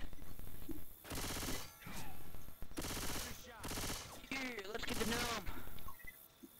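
Automatic gunfire in the zombie shooter Left 4 Dead 2 comes in several loud, closely spaced bursts, each about half a second, separated by short gaps, with faint voices in between.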